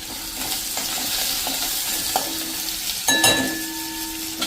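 A spice tempering of green chilli-ginger paste and turmeric sizzles steadily in hot oil, with soft scraping strokes and a few metallic clinks of a spoon against the pan, close and continuous.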